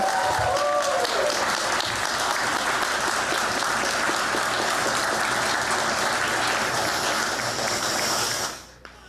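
A large church congregation applauding, dense sustained clapping that carries on for several seconds, then cuts off abruptly near the end.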